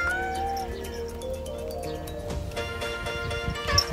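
A cat on a farm in Saudi Arabia meows repeatedly and clearly, its tonal calls rising over a low background hum and a few soft knocks.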